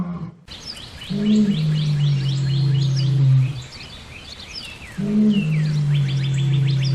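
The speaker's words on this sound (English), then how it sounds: "Same can be noticed with the sound produced by a lion and by a bird." A lion's deep roar rises twice and holds, loud and close, while a bird chirps and calls in quick repeated bursts above it throughout.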